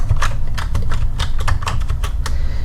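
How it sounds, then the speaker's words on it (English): Typing in all capitals on a computer keyboard in an embroidery digitizing session, a steady run of close, crisp key clicks over a constant low hum, with no talking. "I'm going to type"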